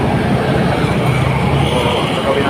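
LRT light rail train at a station by Quirino Highway, heard as a loud, close, steady rumble and rolling rail noise from a passing train, with street sounds and a voice in the background.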